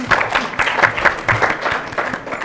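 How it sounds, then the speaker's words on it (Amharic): A children's TV show studio audience claps in a short burst of steady, dense applause that carries on evenly throughout, with faint voices mixed in. "አጨብጭቡለት ለሱ።"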